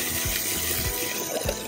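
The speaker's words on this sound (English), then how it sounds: "This is how we water the patio picker. You put the water in here." Water poured into a patio planter on a windy day, a steady close splashing and gushing flow with low rumbling bursts, no voices.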